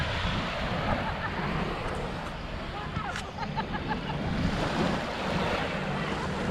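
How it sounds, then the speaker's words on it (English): Shallow ocean waves at Cheoc Van Beach in Macau wash in a continuous, moderate rush on a hot day, with wind buffeting the microphone and faint voices in the background. "the waves are pretty shallow"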